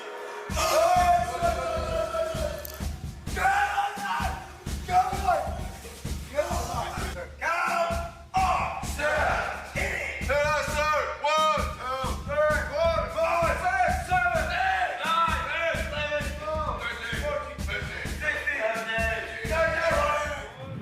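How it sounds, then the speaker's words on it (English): Marine Corps boot camp drill instructors scream at recruits in a barracks, loud overlapping bellowed commands and shouted replies coming in rapid bursts with short pauses between them. "the drill instructors come in all of a sudden and are screaming"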